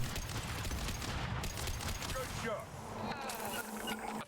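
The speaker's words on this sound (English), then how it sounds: "Start shooting some shit." Gunfire in the video game Mass Effect 2, a steady run of rapid shots over a dense, busy combat mix at moderate loudness, with someone talking over it.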